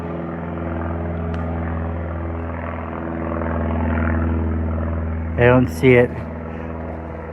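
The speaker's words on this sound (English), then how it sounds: "We got a helicopter heading over ahead of us." Low, loud helicopter passing overhead above tree cover on a nature preserve trail in Keene, NH, a steady droning rumble with rotor hum throughout; someone speaks briefly near the end.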